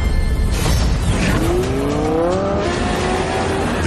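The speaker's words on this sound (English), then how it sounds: "Based on the progressive roar of the engine." A Lamborghini Huracán STO sports car engine roars loudly, revving upward with rising pitch as it accelerates, close and powerful.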